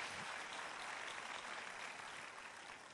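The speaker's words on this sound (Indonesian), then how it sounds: "Beri tepuk tangan yang meriah buat Tuhan." A church congregation claps in a steady, dense wash of applause that stays even for the full few seconds, quiet and fading slightly toward the end.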